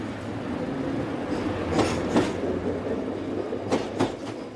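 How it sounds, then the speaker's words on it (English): A train rumbles steadily at a platform as it pulls away southbound, with a continuous low roll and a few sharp clacks or squeals rising above it. "The train is at the platform."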